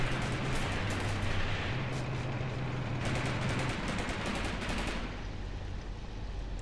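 Artillery and gunfire in the Graviteam Tactics: Mius Front battle, a continuous dense rumble of distant explosions and shots with crackling bursts throughout, no voices over it.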